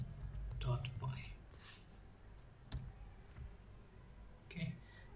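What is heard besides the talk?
typing a command on a computer keyboard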